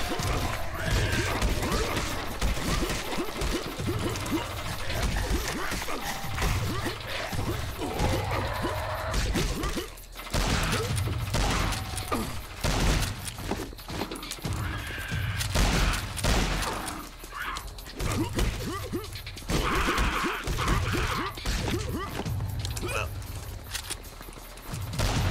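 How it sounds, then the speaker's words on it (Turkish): Explosions and rapid bursts of gunfire crackle and crash repeatedly in the video game Final Exam, a dense, loud barrage of impacts with whooshes and mechanical clatter continuing throughout. "Oh, ne güzel patladılar."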